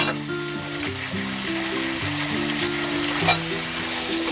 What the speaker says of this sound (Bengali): আলুটা দেওয়ার পরও আমি কিছুক্ষণ ভালো করে ভেজে নিচ্ছি।